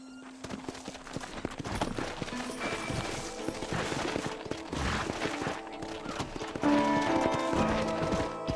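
Hooves of galloping horses in a Western-themed video game clatter rapidly and continuously at close range, mixed with game music and effects, fairly loud throughout.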